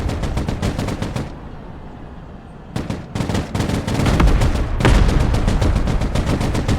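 Rapid machine-gun bursts and heavy cannon shots from armored vehicles fill a battle in the military strategy game Broken Arrow, loud and near, in long dense volleys broken by a brief lull before firing resumes harder.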